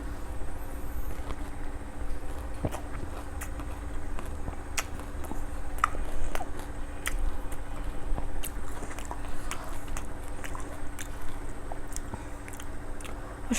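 Close, wet chewing and biting while eating fuchka (golgappa) and ilish pulao in a mukbang, with a steady run of crunchy bites and mouth noises and no talking.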